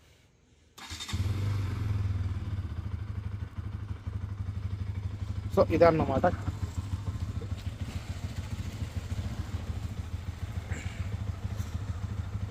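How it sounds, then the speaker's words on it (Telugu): A Bajaj NS200 motorcycle engine fires up and settles into a steady, loud idle close by, with a brief rev and clatter midway and someone speaking briefly over it. "సో బైక్ అయితే ఆన్ చేద్దాం."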